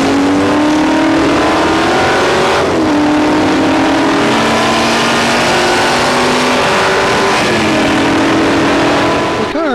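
Vintage Ford GT40 race cars roar away from the start at Road America, several loud engines rising in pitch together and climbing through the gears, with the howl continuing as the pack pulls off.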